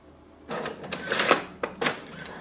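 A Brother printer prints a document sent wirelessly from an iPhone, producing close mechanical whirring and clattering in two main bursts of moderate loudness with no talk.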